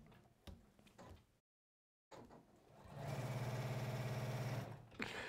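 A sewing machine runs in a steady, even burst at moderate loudness after a short silent gap, preceded by scattered handling noises in a quilting shop.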